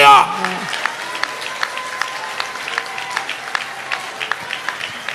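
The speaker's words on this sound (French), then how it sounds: "applaudis le Seigneur pour parole liberté" Scattered clapping from a church congregation at a French-Creole worship service, a steady patter of hands after a short burst of voice at the start, moderately close with a reverberant room tone.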